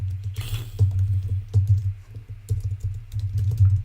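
Close keystrokes on a computer keyboard come in quick irregular bursts with short pauses between them and no talking.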